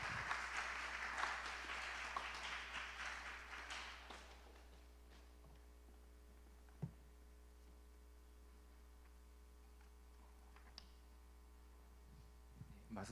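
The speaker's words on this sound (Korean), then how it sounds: "우리 목사님 나오실 때 우리 박수로 환영합시다." A church youth service congregation at Subongsan Church applauds to welcome a visiting pastor. The clapping is moderate and lasts about four seconds before fading, then leaves a quiet room with a low electrical hum and a few soft footsteps and taps.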